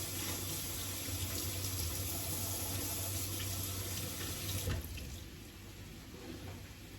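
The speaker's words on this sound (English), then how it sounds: "I'm just going to get this cilantro washed." Tap water runs steadily into a kitchen sink as fresh cilantro is rinsed, a loud continuous splash close by that thins slightly near the end, with no talking.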